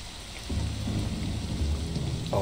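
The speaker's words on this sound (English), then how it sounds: "start a storm. Excellent, it's raining and miserable." Steady rain with low rolling thunder from a tabletop RPG ambience soundscape, a dense wash of drops under deep rumbles that swell and build, ending on a louder crack.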